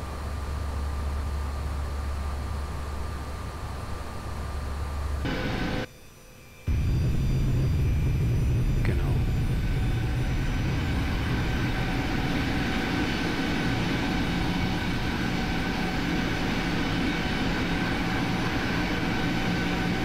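Simulated Airbus jet engine in the X-Plane 11 flight simulator, a steady loud broadband roar with a low rumble that cuts briefly near the start, then returns as a continuous drone with a faint rising tone.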